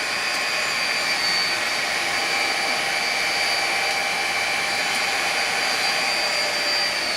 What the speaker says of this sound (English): I think that's as good as I can do with a mixer